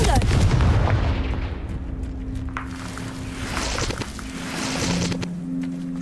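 Confringo fire-blast spell going off in Hogwarts Legacy, a loud blast at the start followed by continuous booming rumble and scattered cracks as the explosion and combat noise carry on throughout.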